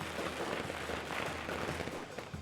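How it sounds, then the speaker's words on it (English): Firecrackers in the video game Nine Sols set off a dense, continuous barrage of crackling pops, loud and close throughout with no talking. "Ah, firecrackers."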